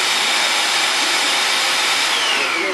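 A model oil-drilling ship's drill runs with a steady, loud, vacuum-like whirring hiss that holds unchanged from start to end.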